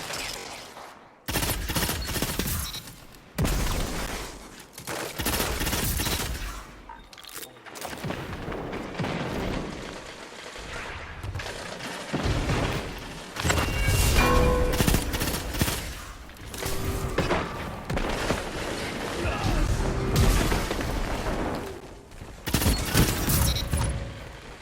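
Bad Juju, an exotic pulse rifle in Destiny, fires in rapid clipped bursts, loud and close, with short gaps between volleys and the clatter of surrounding combat.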